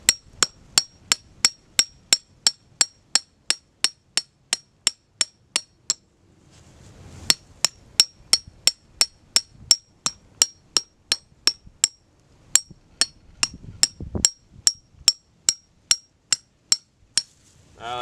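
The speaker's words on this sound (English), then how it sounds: "I like to hammer it down basically flat as I can get." Sharp metallic hammer strikes drive a trap stake into the ground in a steady rapid rhythm, close by, in several bursts separated by brief pauses with faint rustling.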